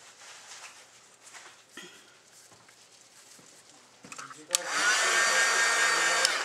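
Heat tool switching on with a loud steady blowing whoosh while drying dyed seam binding, preceded by soft handling taps and rustles.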